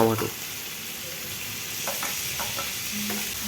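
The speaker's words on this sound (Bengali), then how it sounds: "আদা, রসুন, জিরে, একটুখানি শুকনো লঙ্কা দিয়ে মিক্স করে সুন্দর করে ভেজে নেব" Ginger, garlic, cumin and dry chili being stirred and fried in a pan for a chicken liver and gizzard masala, giving a steady close sizzle with scraping stir strokes scattered through.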